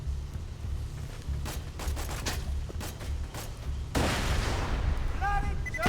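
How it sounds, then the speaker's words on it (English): A grenade bursts in Borderlands 2 with a sudden broad crack amid ongoing rapid gunfire, the explosion loud and close and followed by a lingering rush of debris, while a person speaks over the action. "Throw a grenade."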